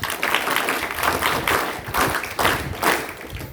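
An audience at a school lecture claps in lively applause, a dense patter of hands rising and falling in waves for a few seconds.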